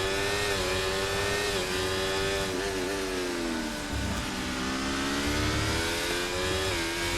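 Aston Martin Formula 1 car in F1 24 at the Australian circuit, its engine howling steadily at high revs with a brief dip in pitch around the middle, loud and close with no voices over it.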